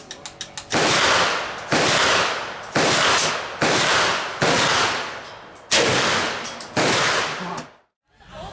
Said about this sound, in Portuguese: Arma soviética.